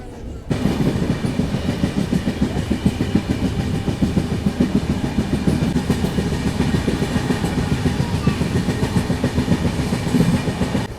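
Steady rumble and rhythmic clatter inside a moving fully air-conditioned 2AC coach of the New Jalpaiguri–Udaipur City Weekly Express, a continuous loud running-train noise with no break.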